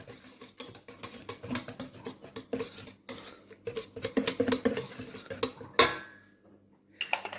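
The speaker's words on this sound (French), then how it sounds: "Là, elle mélange." Baghrir batter is mixed in a bowl with a utensil, making a brisk run of rhythmic scraping and clinking strokes that end in a sharp clink and a brief pause before the stirring starts again.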